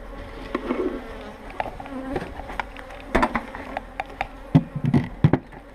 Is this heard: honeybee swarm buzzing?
yes